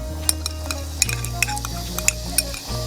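Thick milk toffee mixture with butter being stirred in a pan, with soft scraping strokes and light sizzling, plus a few sharp utensil taps against the pan, close and clear with no talking.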